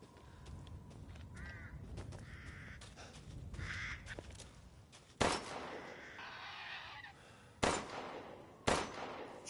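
Crows caw in a Resident Evil video game, harsh bird calls scattered among game sounds, with several sharp loud bangs breaking in toward the end.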